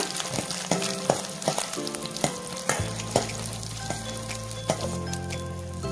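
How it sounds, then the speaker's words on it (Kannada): Minced garlic fries in butter for butter pepper chicken, a close, steady sizzle broken by repeated clinks and scrapes of a spoon stirring the pan. "ಹಾಗೆ ಇಲ್ಲಿ ಗೆಜ್ಜಿಟ್ಕೊಂಡಂತಹ ಬೆಳ್ಳುಳ್ಳಿನ ಸೇರಿಸ್ಕೋತೀನಿ. ಚೆನ್ನಾಗಿ ಫ್ರೈ ಮಾಡ್ಕೊಳ್ಳೋಣ."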